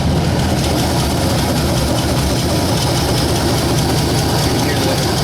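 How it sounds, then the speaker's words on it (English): A loud, steady 1960 Ford F100 truck engine rumble with a rapid low puffing and ticking from an exhaust leak throughout, continuous and close, with no pauses. "You hear that exhaust leak."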